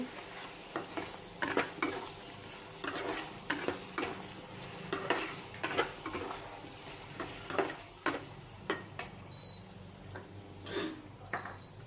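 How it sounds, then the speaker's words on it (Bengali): A spatula scrapes rhythmically as potatoes are stir-fried with spices for a tilapia and potato curry, repeated sharp strokes over a low, constant sizzle. "এবার আলুগুলোকেও কষিয়ে নেব।"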